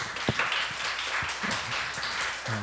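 A church youth congregation applauds as the senior pastor comes forward at a Sunday service, dense steady clapping filling the room throughout, with a short tonal sound near the end.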